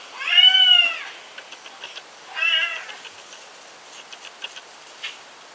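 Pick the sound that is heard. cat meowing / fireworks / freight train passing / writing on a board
cat meowing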